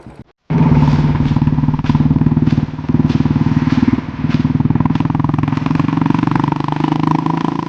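Royal Enfield Bullet motorcycle thumps steadily as it is ridden, a loud close single-cylinder pulse with slight changes in throttle, starting abruptly after a short pause.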